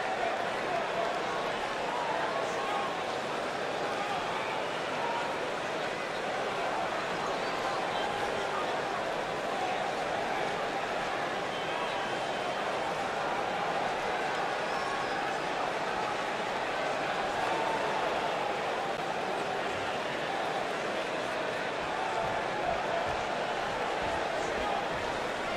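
A wrestling arena crowd before a Lio Rush vs New Jack match makes a steady, dense roar of cheering and chatter that holds at an even level throughout, with no single voice standing out.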